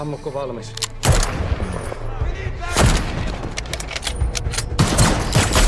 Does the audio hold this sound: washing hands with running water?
no